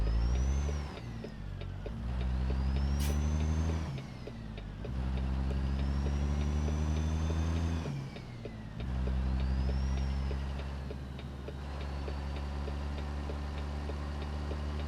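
A heavy truck drives in American Truck Simulator, its engine droning low and loud while it works up through several gears, each climb broken by a brief shift dip.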